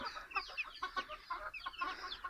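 Several chickens, including native country hens, cluck and chatter in a cage on a farm, a close, busy run of short overlapping calls with no speech.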